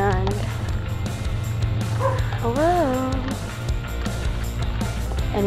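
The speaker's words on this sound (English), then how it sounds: "That's his dog there." A dog at a house barks and yips repeatedly, with a rising whimpering howl in the middle, while a person calls out a greeting over steady background noise.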